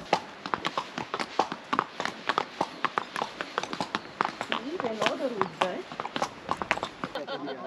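Horses walking on a guided ride, their hooves clip-clopping in a steady, close rhythm throughout, with people talking over the footfalls.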